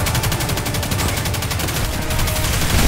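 A gun in Destiny 2 fires in rapid continuous bursts, a dense, loud, close rattle of evenly spaced shots that runs without a break and has no talking.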